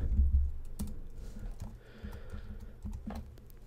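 Typing on a computer keyboard on a Mac, with soft, irregular key clicks close by at a quiet level and no talking.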